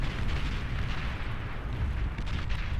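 Artillery fire from both sides in a Beyond All Reason trench battle: a dense, continuous rumble of overlapping booms and blasts with no clear gaps between them.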